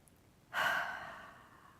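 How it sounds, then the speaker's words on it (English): A single deep breath, a sharp inhale rising suddenly and then easing into a long, soft exhale, close and quiet against near silence. "a couple of deep breaths."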